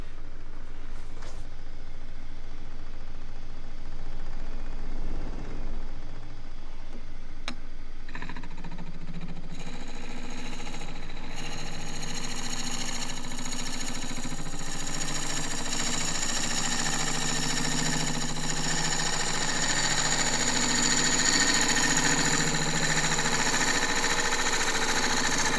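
A gouge cuts wood on a lathe while turning a natural-edge tripod bowl, making a continuous rough whirring and scraping that grows fuller and brighter partway through and then holds steady, with no speech.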